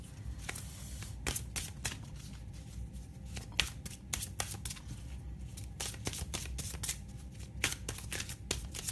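Large tarot cards are shuffled by hand close up, with repeated papery riffles and slaps in an uneven rhythm and no talk over them.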